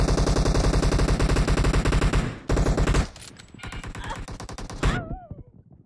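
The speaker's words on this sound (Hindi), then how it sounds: "ये लोग ऑटो गन चला रहे हैं।" Rapid bursts of automatic gunfire in the mobile battle-royale game PUBG Mobile, loud and sustained with dense repeating shots, a short gap, then more fire trailing off into a whistling tail.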